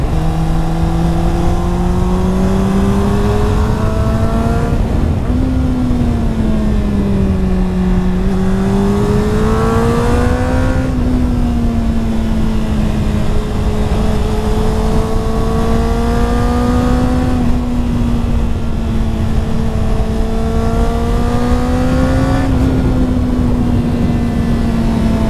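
Honda CBR motorcycle engine droning steadily on a ride across the Swabian Alb, pitch rising and falling with gear changes and throttle, loud and continuous with wind rush throughout.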